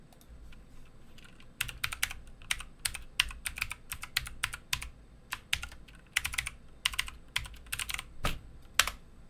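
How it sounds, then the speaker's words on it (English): Quick, uneven keystrokes on a computer keyboard, clicking in bursts of typing with short pauses, close and clear over a faint steady background hum. "Let me type it in the chat."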